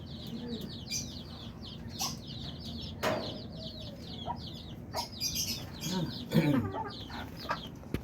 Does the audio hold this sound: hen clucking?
yes